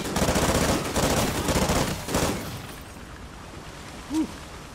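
Gunfire in Call of Duty: Ghosts, a loud, dense stretch of rapid automatic shots over the first two seconds, then tapering off into quieter background.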